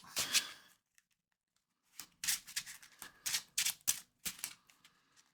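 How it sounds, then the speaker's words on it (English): A deck of Marvel Champions cards is shuffled in a couple of quick riffle bursts, crisp and close, separated by a brief silence, with no talk. "We'll give our vision deck a shuffle."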